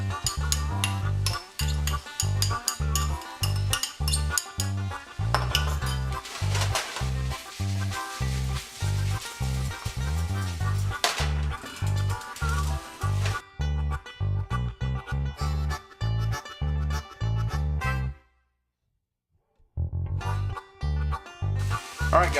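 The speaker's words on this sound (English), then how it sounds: "let's go ahead and get our onions in here and our garlic" Onions and garlic go into a pan of browned lean Angus ground beef for stuffed bell peppers, with steady rhythmic stirring and scraping over a soft sizzle, briefly stopping near the end before resuming.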